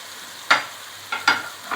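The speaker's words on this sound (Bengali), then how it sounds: "এবার কিছুক্ষণ এটাকে কষতে হবে।" Pepper chicken curry with its gravy added is stirred in a pan, giving three or four short scraping, sizzling bursts over a quiet low hiss, close and distinct.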